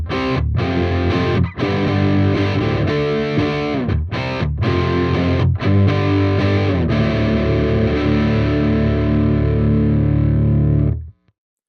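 Guitar recorded direct input with the output gain turned well up, sounding boomy, bassy and stuffy: loud distorted chords and strums for about eleven seconds, then cut off abruptly.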